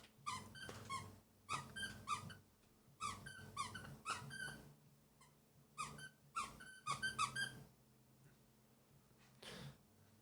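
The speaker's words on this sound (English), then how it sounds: "my dog wants attention." A dog whimpers for attention with repeated high, squeaky whines in bursts, interspersed with soft snuffling breaths, close up in a quiet room.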